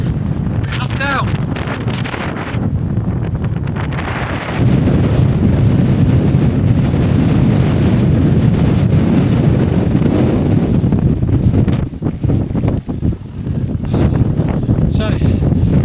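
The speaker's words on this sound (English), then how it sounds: "God, it's so windy, it takes you off your feet." Strong gale roars and buffets continuously on the summit of Dent, loud and close, battering the microphone with deep rumbling blasts throughout.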